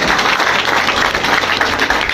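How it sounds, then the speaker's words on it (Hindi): A crowd at a motivational business seminar claps together in a loud, dense burst of many hands, continuous and close, with no voices over it. "एक बार ताली बजाओ"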